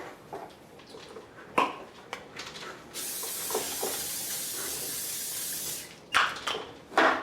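A continuous hiss of cooking spray for about three seconds, surrounded by light clatter and scraping of a pan before and after.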